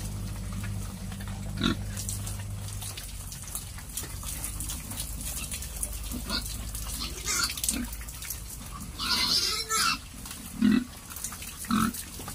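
Piglets eat at an automatic feeder on a pig farm, giving a continuous close rattle of feed and chewing with scattered snorts and short grunts and squeals, louder toward the end.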